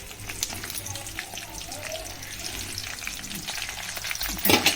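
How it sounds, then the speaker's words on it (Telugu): Red chillies fry in hot oil for a spicy pickle, a close, dense crackling sizzle with rapid spattering pops like rain on a surface, with a low rumble underneath and a sharper burst at the end. "నూనె వేడెక్కిన తర్వాత పండుమిరపకాయలు వేద్దాం"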